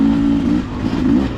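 A 2024 Beta 250 dirt bike engine revs close by, a loud buzzing drone that dips briefly in the middle and then climbs again, with no talk over it.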